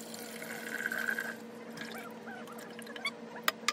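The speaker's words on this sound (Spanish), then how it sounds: "Echamos el agua de coco." Coconut water poured into a bowl while making homemade coconut ice cream, a soft liquid trickle that swells for about a second and a half, then settles into quieter splashes, with a few small clinks near the end.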